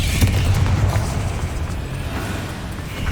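Confringo, an explosive spell in Hogwarts Legacy, bursts in a dense, rumbling boom that stays loud and sustained for several seconds amid crackling debris, with no voices.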